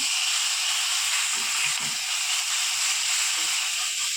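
Cumin and garlic paste sizzle in a hot frying pan for a chicken filling, giving a steady, loud hiss with a few faint clinks underneath.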